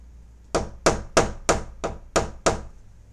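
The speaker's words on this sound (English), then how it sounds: "I'm posting and hammering it on the door right now." Seven sharp, heavy hammer blows land on a door in a steady rhythm, each a loud close thud with a quick decay and no talking.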